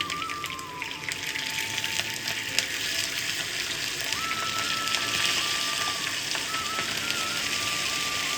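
Asafoetida, curry leaves and cut green chillies in a hot oil tempering for Surti vaati daal khaman, sizzling and crackling steadily up close, with small sharp pops and occasional clinks over a constant frying hiss.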